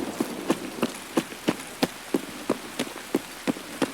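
Rain in the video game Escape from Tarkov, a constant hiss under a regular run of sharp thuds about twice a second, close and moderately loud, with no talking.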